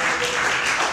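A live show audience bursts into applause, a dense, even wash of clapping that fills the whole brief moment.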